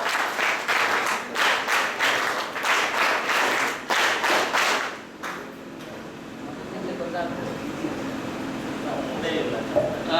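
Applause at a closing ceremony of a de-addiction camp gathering, loud rhythmic clapping from the assembled crowd for about five seconds, then fading out to quiet room tone with faint murmuring.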